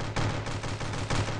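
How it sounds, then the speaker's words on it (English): Heavyfire gun from the stick-figure shooter Stick Warfare Blood Strike fires in a dense, rapid automatic burst, loud and close with a steady rattling rhythm and no talk over it. "Fun gun to use. Good firing. A lot of bullets."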